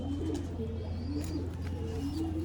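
Pigeons coo repeatedly at a Lucknow pigeon market, their low rolling calls overlapping above a steady background hum.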